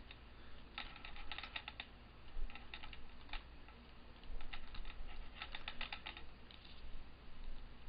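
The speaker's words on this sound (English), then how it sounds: "this is where you would type your local location" Someone types a long path on a computer keyboard in quick, irregular bursts of soft clicking keystrokes, fairly close and quiet, with brief pauses between clusters.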